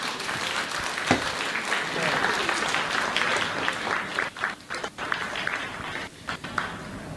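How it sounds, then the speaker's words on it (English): Forum audience at an ASEAN-China silver economy conference applauds in a steady wash of clapping that breaks up into scattered individual claps toward the end, with some voices mixed in. "A round of applause, please."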